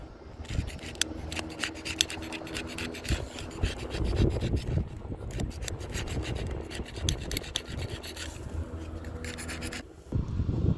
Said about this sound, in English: Another thing I've been using is this razor blade knife.